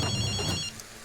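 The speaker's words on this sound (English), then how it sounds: "this phone's ringing" A phone rings inside the video game Ghostwire: Tokyo, a short bright electronic trill that sounds once and cuts off partway through, with no talking over it.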